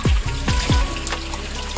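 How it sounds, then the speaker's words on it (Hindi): Hot spring water flowing continuously at a tourist spot, a steady close splashing rush with small repeated gurgles and drops. "24 घंटा झरना बहते रहता है गर्म पानी"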